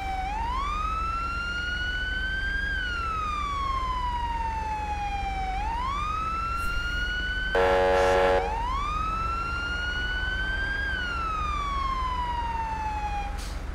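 An ambulance siren in the GTA V LSPDFR video game wails in long rising and falling sweeps, loud and close. Midway through, a brief harsh horn-like blast breaks in before the wail starts again.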